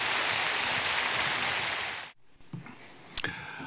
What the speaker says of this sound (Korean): 하나님께 우리 감사의 박수 한번 드리겠습니다